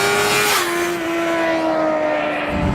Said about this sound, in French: On coupe franchement les gaz et on passe ces rapports.